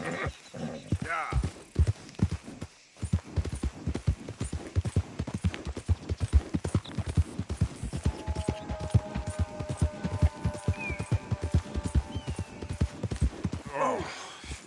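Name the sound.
horse hooves clip-clopping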